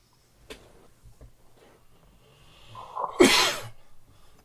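A single loud, sharp sneeze bursts out after a few quiet seconds of faint room noise and small movements at a workbench, trailing off into breathy noise.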